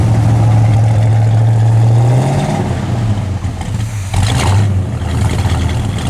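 A 1967 Pontiac GTO V8 idles on gravity-fed fuel with a broken choke, a loud, close, low steady rumble that dips and wavers slightly as the engine settles, with no talk.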